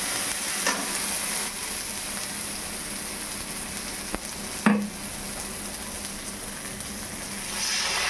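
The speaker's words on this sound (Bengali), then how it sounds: "দেখুন দিয়ে দিলাম বেটে রাখা সর্ষে।" Ground mustard paste fries in a pan with a dense, steady sizzle throughout, broken by a few sharp stirring clinks and scrapes, close and fairly loud.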